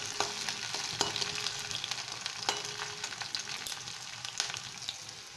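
Onion and green chillies frying in oil, a quiet steady sizzle with occasional clicks and spatters from stirring, no voices.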